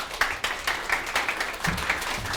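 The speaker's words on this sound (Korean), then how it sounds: "큰 박수 부탁드립니다." An audience at a Korean law firm's seminar on preparing shareholder meetings applauds. The thick, continuous patter of many hands is fairly close and loud, with a few sharper claps poking through.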